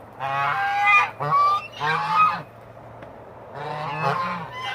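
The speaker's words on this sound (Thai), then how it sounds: "ดูดูดูดูดูห่าน เลี้ยงไว้นะคะ" A pet goose kept at a rural home honks loudly and close, in three long bursts of harsh, nasal calls separated by brief pauses.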